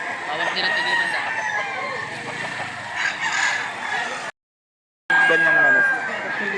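Fighting roosters for sale at a gamecock market in Lipa, Batangas crow repeatedly, several birds overlapping near and far, with background voices and a brief dropout before one more crow.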